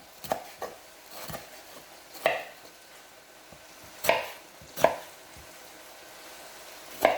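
A knife chops ingredients for green lentils on a cutting board, a few sharp separate thuds with irregular pauses between strokes, close and fairly clear in a quiet kitchen.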